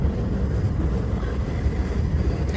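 A subway train rumbles steadily in a deep, continuous low roar from inside the car, loud and unbroken, with no voices.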